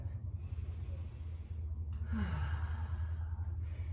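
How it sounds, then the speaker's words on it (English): A single deep breath taken during a hamstring stretch, a soft drawn-out inhale and sighing exhale over a low background hum, close and quiet. "take a deep breath"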